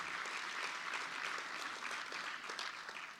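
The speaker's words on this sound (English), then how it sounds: "Let's give him a round of applause" Guests at an anniversary awards gala applaud Mayor Sylvester Turner, a steady, fairly distant wash of clapping from a large room that holds evenly and tapers slightly at the end.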